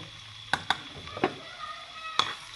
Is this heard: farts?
no